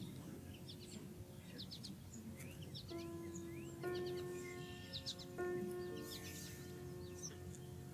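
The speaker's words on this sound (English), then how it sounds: "Returning to the nest, the chick appears to be enthusiastically chirping about its inaugural flight experience" An osprey chick at its nest gives a few repeated, thin whistling chirps in short bursts midway, faint against soft outdoor background noise.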